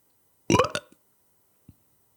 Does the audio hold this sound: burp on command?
yes